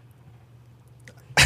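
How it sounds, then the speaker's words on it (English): A single short, loud sneeze bursts out at the very end of a quiet stretch of faint background hum, recorded close to the microphone. "Very sneezy episode."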